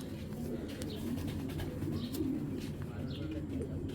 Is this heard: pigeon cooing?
yes